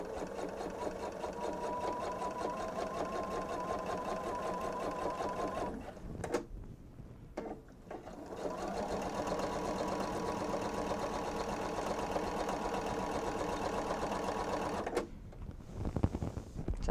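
A sewing machine stitches in the ditch along the seam of a bench pillow's layered fabric, whirring steadily in two long runs separated by short pauses, close and alone.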